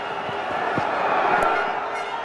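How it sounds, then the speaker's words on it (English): An Indian cricket crowd cheering at a Champions Trophy 2013 match against Sri Lanka, a broad roaring swell of many voices, sustained and distant-sounding, with a few sharp accents. "Indian crowd going off too, and why not?"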